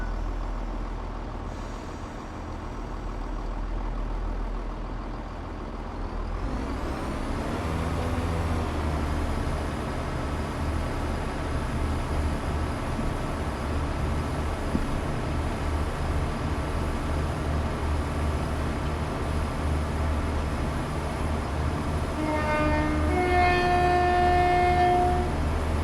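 A train in a train simulator video game powers up and pulls away. Engine rumble rises after a quiet start and settles into a steady, loud drone. Near the end, brief tonal horn or warning notes sound over the running engine.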